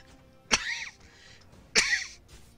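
Two sharp, close coughs about a second apart, each a harsh burst trailing off quickly, with quiet background between them.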